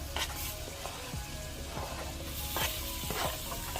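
Butter and seasonings sizzle and crackle steadily in a pot on the stove, with a few stirring scrapes and small pops close up and nobody talking.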